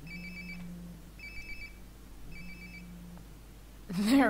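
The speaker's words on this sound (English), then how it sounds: "Sounds like my phone is definitely nearby." A phone rings in the video game Life is Strange Before the Storm, sounding in three repeated electronic bursts at a steady rhythm over a low background hum. The rings end in a sudden louder noise.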